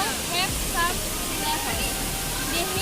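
Tesbatan waterfall, with several levels, gives a steady close roar of falling water that fills the clip, while faint voices are heard underneath.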